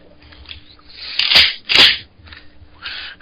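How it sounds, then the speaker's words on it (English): Two loud, sharp mechanical clacks half a second apart as the pump of a Mossberg 500 shotgun is racked back and forward, close up in a quiet room. "That is the sound of me racking a shotgun."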